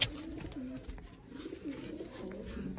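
Soft, low cooing of pigeons, a few quiet murmuring calls close by against a faint background.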